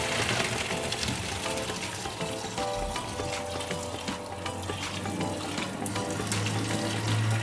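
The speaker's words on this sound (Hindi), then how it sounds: "अब इसको अच्छे से ठंडे पानी के नीचे इसको रखना" Tap water runs steadily over drained boiled macaroni in a kitchen, a continuous close hiss and splash that fills the whole stretch.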